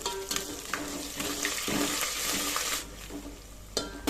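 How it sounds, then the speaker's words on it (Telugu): Onions and ginger-garlic paste fry in hot oil for fried chicken biryani, a close, continuous sizzle broken by occasional stirring scrapes and clatters. "ఇందులో రెండు స్పూన్ల అల్లం వెల్లుల్లి పేస్ట్ వేసుకొని ఒక సెకండ్ పాటు ఫ్రై చేసుకోవాలి"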